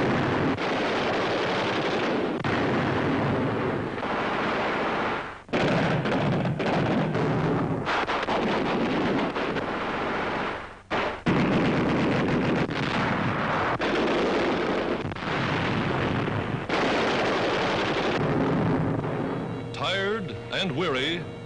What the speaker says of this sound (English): With field mortars and Tommy guns, they blast away at the slightest sound.